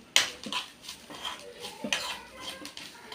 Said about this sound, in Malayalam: ഒരു മൂത്ത് വരുന്നവരെ നമുക്കിത് ഇളക്കി കൊടുക്കാം